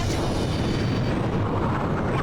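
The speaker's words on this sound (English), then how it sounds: "That was a huge explosion." A huge explosion in the jet combat game Ace Combat 5 roars as a dense, continuous rumble that stays loud and even throughout, with no talking.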